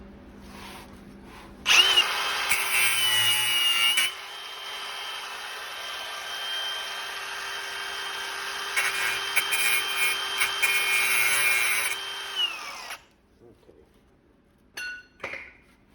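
An impact wrench works on a cotter pin on a Thunderbird's front end, a steady loud mechanical whir running about eleven seconds with a short break near four seconds, then stopping, followed by a few faint clicks.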